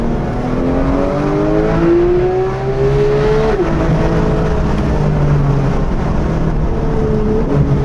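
A Porsche 911 GT3 (991.1) flat-six engine revs hard and climbs in pitch, with a quick dip at a PDK Sport gear change before pulling on again. It is loud and steady throughout, and no one speaks.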